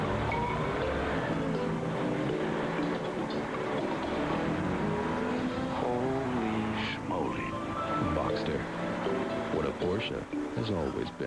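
A Porsche in a television commercial drives past with a steady engine drone and shifting revs, loud and continuous, with talk and music mixed over it.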